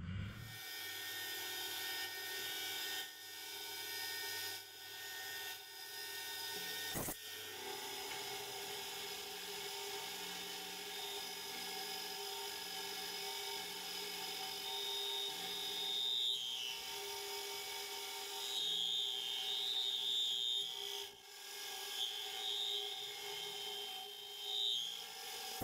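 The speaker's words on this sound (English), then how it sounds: "going down with this cutter, which is a center drilling cutter, going down the 8mm" Milling machine with a center drilling cutter drilling an 8mm hole, a steady close mechanical hum with faint high tool squeal appearing intermittently in the later part.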